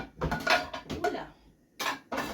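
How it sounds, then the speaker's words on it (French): A frying pan is put away and taken out again in a home kitchen, giving a few short metallic clanks and knocks with a brief gap between them. "Donc j'ai rangé ma poêle. Je ressors ma poêle."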